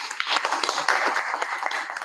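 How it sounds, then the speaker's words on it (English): Applause from the audience at a Toastmasters club weekly meeting, steady dense clapping held for about two seconds at a moderate level with no talk over it. "Give a big round of applause."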